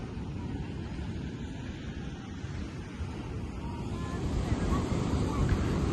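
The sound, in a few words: strong ocean surf at a beach on Boa Vista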